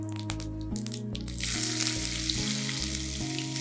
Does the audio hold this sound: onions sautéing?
yes